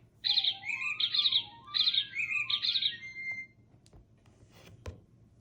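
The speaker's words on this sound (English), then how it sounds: "Bluebird sings her song." A bird sings a run of bright, repeated whistled phrases, close and clear, followed by a few faint clicks and taps.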